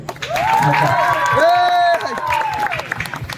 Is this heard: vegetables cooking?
no